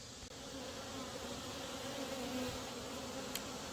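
Honeybees in an open hive brood box give a steady, low buzzing drone that holds evenly throughout, close and moderate in level, with no voices.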